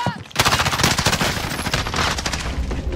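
Rapid automatic gunfire from the video game Warzone bursts in after a brief lull, loud and sustained with dense rattling shots.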